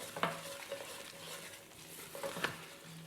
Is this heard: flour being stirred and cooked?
yes